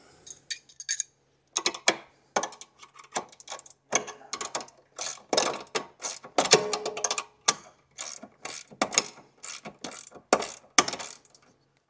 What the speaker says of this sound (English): Your long bolt into your suspension. And your 12 and 13 mil spanner.